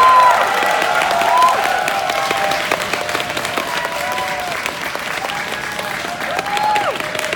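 Warm, sustained applause from a concert audience welcoming an orchestra, with dense clapping and a few cheers and whistles holding steady throughout.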